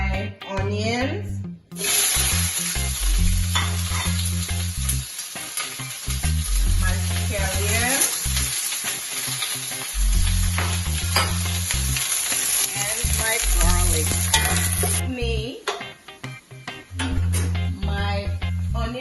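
Onions sauté in a thin layer of oil in a pot for Jamaican steam fish, crackling and sizzling loudly and continuously, with repeated scraping stirs and low clattering bumps throughout.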